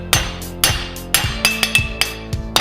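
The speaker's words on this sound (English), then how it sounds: "just start hammering this twist back into itself a little bit" Blacksmith's hammer blows ring out on a metal twist laid on an anvil while forging tongs: about nine sharp, loud, metallic strikes, first spaced out and then quicker, with no talking.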